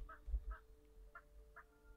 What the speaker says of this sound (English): We've also got some turkeys now.